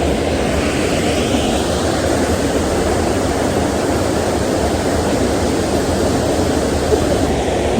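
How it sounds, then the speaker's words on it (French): The small Tendon waterfall gives a steady, loud rush of falling water. The broadband roar holds even throughout, with no voices. "on a trouvé la vraie petite cascade de Tendon"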